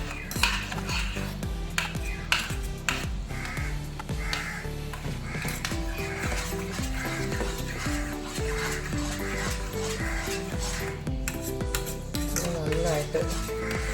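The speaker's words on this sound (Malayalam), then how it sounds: "വിസ്ക് വെച്ചോ സ്പൂൺ വെച്ചോ നന്നായിട്ടൊന്ന് മിക്സ് ചെയ്യാം." A whisk or spoon stirs milk powder in a bowl, with rapid rhythmic metallic scraping and clinking against the bowl's sides, close and continuous.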